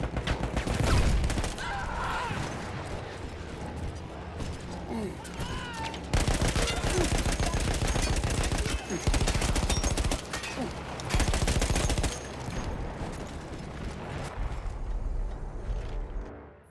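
Machine gun fire in the Battlefield 1 campaign, a mounted gun hammering out long rapid bursts amid loud battlefield explosions and rumble, close and dense with short pauses between volleys.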